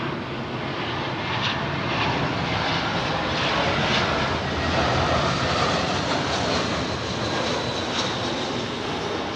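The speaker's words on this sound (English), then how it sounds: "One of the last in line of the CEO jets, I think, of these British Airways, carrying those big winglets on them, sharklets, but still having the old IAE engines." A British Airways Airbus A320-family CEO jet with IAE engines and sharklet winglets roars steadily at London Heathrow runway 27L, a loud, continuous broadband jet rumble and whine filling the whole stretch without letup.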